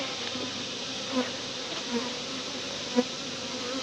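Continuous buzzing of many honey bees around a hive, with a few individual bees flying close and briefly louder.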